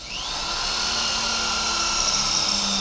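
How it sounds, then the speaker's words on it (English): A loud, steady high-pitched power drill whine runs continuously from start to finish, rising slightly as it bites through a hard drive. "I'm going to put the drill 1/3 of the way up from the end."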